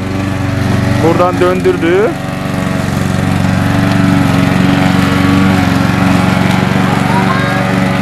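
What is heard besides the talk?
lawn mower running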